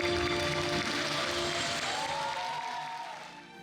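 Audience applause for male dancers performing classical Chinese dance, a dense even clatter of many hands clapping at once, loud at first and gradually thinning and fading toward the end.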